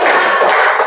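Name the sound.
hands clapping on count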